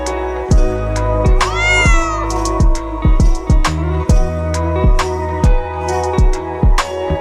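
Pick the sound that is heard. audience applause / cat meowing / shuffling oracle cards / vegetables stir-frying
cat meowing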